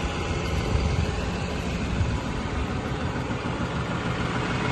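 A steady, low tractor engine idles without a break, a constant heavy rumble that stays near and loud for the whole stretch.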